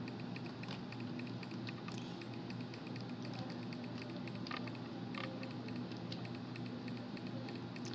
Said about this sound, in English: I'm clearly clicking so much right now.